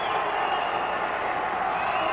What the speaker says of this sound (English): And this crowd is in a real uproar.